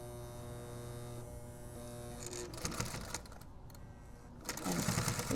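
Sewing machine stitching the handle of a road trip bag, running in a steady close mechanical whir with a buzzing hum, briefly pausing and shifting before it picks up again.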